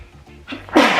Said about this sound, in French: Excusez-moi pour les éternuements.